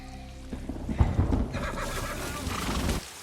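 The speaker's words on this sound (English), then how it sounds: "The horse dying." A horse neighs and whinnies in a TV drama scene amid loud rumbling and rain-like noise. The call is fairly close and lasts a couple of seconds before cutting off.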